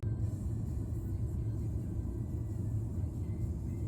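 Road traffic heard from inside a car stuck in slow traffic near a park, a constant low rumble of engine and tyres that stays even throughout.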